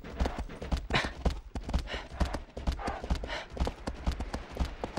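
Rapid, loud galloping hooves of a horse in the video game Shadow of the Colossus, a steady clip-clop rhythm running throughout with a faint voice now and then.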